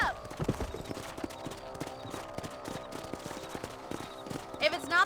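A horse gallops in Red Dead Redemption, its hooves drumming in a quick, steady clip-clop, with voices heard over the ride.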